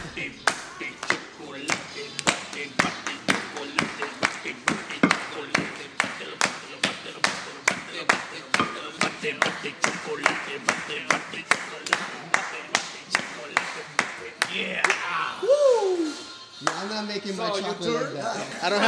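Group of people clapping a steady rhythm together, sharp even claps repeating for about fifteen seconds, with laughter and talk mixed in and the clapping breaking up near the end.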